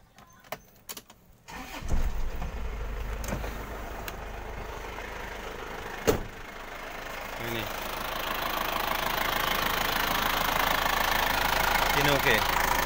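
Isuzu Panther Touring 2002 engine cranks with a few clicks, fires up with a burst, then settles into a steady diesel idle with a slight knock, while a person talks nearby.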